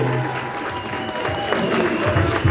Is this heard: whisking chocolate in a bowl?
no